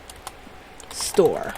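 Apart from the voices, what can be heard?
typing on a computer keyboard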